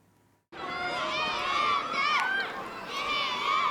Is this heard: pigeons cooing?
no